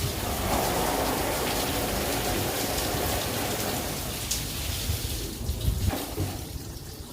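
A bathroom shower head in rain mode spraying water, a dense, steady hiss of falling droplets that fades slightly toward the end.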